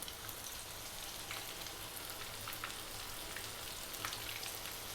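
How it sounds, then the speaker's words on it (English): A fish fillet frying in hot oil gives a steady, quiet crackling sizzle with scattered pops throughout and no voices. "We're just going to drop our fish in. And we're going to fry this around for about maybe 5 minutes or so."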